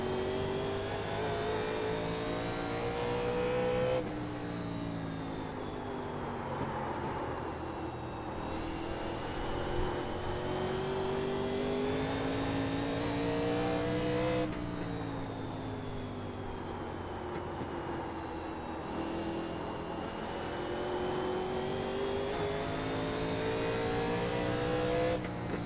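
NASCAR Legends race car engines in iRacing on the Nashville Fairgrounds oval, a close, continuous engine drone that rises and falls in pitch through repeated shifts and throttle cycles, with no talk.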